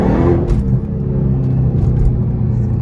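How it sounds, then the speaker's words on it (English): A supercharged Hellcat engine revs loudly and steadily up close, a deep continuous roar with a faint high supercharger whine riding on top. "You can't get over that supercharger sound."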